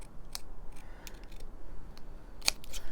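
Scissors cut paper for a shabby chic junk journal, making two or three brief, crisp snips spaced apart against a quiet room background.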